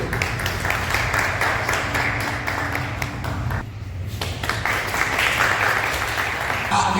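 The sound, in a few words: audience applause at a senior citizens' gathering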